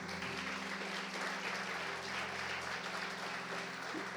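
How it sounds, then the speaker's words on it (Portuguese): A church congregation claps together in a soft, continuous wash of applause that holds steady, heard faintly and at a distance throughout. "Vamos aplaudir a Deus."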